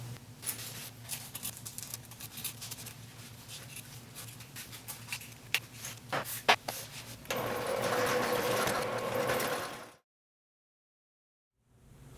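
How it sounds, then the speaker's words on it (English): A sewing machine top stitches a quarter-inch seam on cork fabric, running in uneven bursts with clicking, then whirring steadily for a couple of seconds before stopping into silence. "you're going to top stitch on the cork with a 1/4 inch seam allowance"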